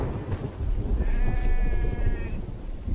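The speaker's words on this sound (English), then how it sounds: "What kind of sheep is this?" A single sheep bleats once in The Infected video game, a short wavering call over a loud rumbling background.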